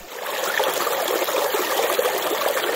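Water rushes steadily through a river gold sluice lined with vortex-style dream matting, producing a continuous close, bubbling stream with a dense, even wash and no voices.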